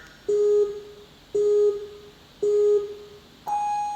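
Start countdown on an obstacle course: three identical mid-pitched electronic beeps about a second apart, then a higher-pitched go beep, loud and clear with no talking.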